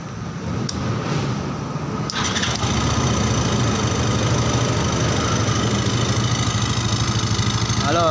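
A Yamaha Xeon GT 125 fuel-injected motorbike engine catches after about two seconds and then runs steadily at a close, loud idle with a constant mechanical rattle for the rest of the clip.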